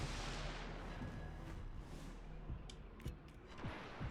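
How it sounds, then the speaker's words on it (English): Torpedo hits landing on an enemy ship in World of Warships Legends, a rumbling battle bed with several short booming impacts and crackles near the end, no voices. "I got some torpedo hits"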